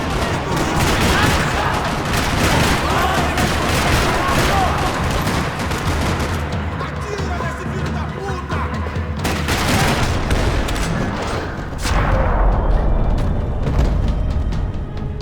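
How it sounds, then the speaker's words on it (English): Dense, sustained gunfire crackles through a parking-lot shootout in the video game Max Payne 3, with rapid overlapping shots and loud bursts continuing almost without pause for the whole stretch. "Another parking lot rattling with gunfire."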